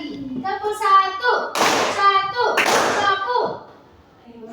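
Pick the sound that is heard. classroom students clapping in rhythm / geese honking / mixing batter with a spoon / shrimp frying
classroom students clapping in rhythm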